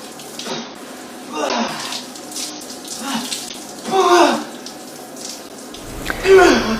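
A cold shower runs in bursts of splashing water, loud and close, with pauses between gushes and some breathy sounds over it.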